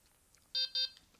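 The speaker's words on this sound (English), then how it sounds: "wait for 2 beeps" Two short, bright electronic beeps in quick succession from a Delkim bite alarm receiver, clear against a quiet background.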